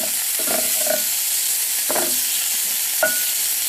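Bacon frying in a pan gives a steady, close sizzle and hiss, with a few soft scraping stirs and clicks of utensils over the constant crackle.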